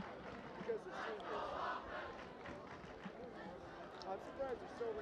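Crowd noise at a high school powderpuff football game during homecoming, a steady murmur of many voices with scattered cheers and shouts in the stands, loud and continuous throughout.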